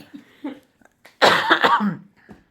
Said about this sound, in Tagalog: Nainubo kami.